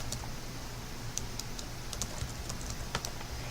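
Typing on a computer keyboard while filling in plan details in a medical records program: quick, light clicking keystrokes in irregular bursts, close and fairly quiet over a steady low background hum.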